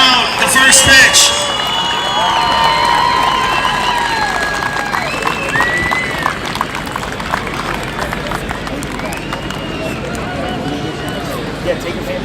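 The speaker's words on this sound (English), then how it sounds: "everyone, let's give a round of applause to Patrick Juarez" A large outdoor crowd at a softball tournament in Kennedy Park, Chicago, claps and cheers, strongest at the start then settling into a steady murmur of scattered applause, with voices talking throughout.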